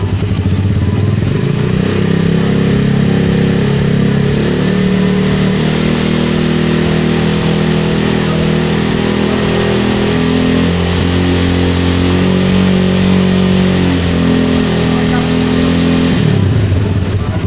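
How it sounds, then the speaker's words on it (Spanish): A carbureted engine held at about 5000 rpm during a charging-system test, a loud steady roar with slight rises and dips in speed across the whole stretch before it drops off near the end. "Ahora lo vamos a acelerar a 5000 revoluciones."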